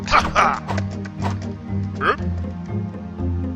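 A companion dog in a video game barks and yips in a few close, loud bursts, with a faint whimpering tone between them.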